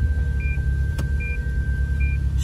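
A Lexus RX450h hybrid engine starts and runs with a steady low rumble throughout, with a brief click near the middle and a few faint short electronic beeps.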